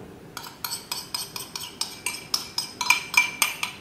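A metal utensil scrapes the bottom of a pan of Gobi Manchurian sauce made for spiced cauliflower. About fourteen quick, evenly spaced clinking scrapes ring out close up, growing slightly louder toward the end.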